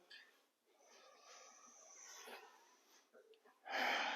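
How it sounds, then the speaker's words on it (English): Ujjayi breathing in a yoga warrior session, close and breathy, with a long constricted, slightly wheezing ocean-like exhale followed after a short pause by a louder, sharper rush of breath. "Staying with this Ujjayi breath"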